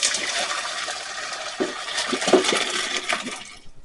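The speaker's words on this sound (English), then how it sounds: "so you drain your noodles good" Cooked noodles for a ground beef casserole are drained, with water pouring and splashing steadily and fairly loud, a few clunks and splatters along the way, before fading out at the end.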